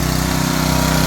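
A small engine drives a pressure washer on a mobile detailing trailer, running close and loud with a steady, even drone and no voices.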